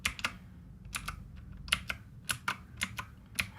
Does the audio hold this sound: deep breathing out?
no